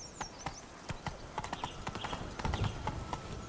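Roach, Geralt's horse in The Witcher 3, gallops briefly, hooves striking in quick regular beats close by, with faint background ambience.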